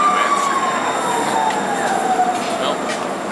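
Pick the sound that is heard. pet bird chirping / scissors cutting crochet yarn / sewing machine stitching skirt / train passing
train passing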